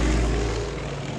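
A Beech 18 twin-engine propeller plane cruises at 9,000 feet, its engines making a loud, steady, close droning roar with a low rumbling hum throughout.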